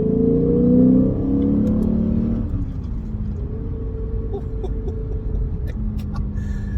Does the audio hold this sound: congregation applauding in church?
no